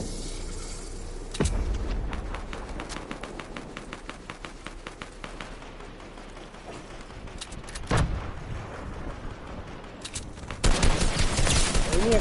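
Rapid bursts of gunfire from the Maula Jutt video game, with dense repeated shots through much of the stretch and louder blasts near the end, while someone talks over it.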